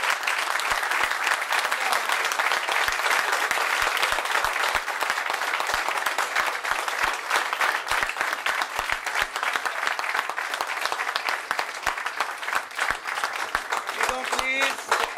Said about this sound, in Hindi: आपकी मजबूत तालियों में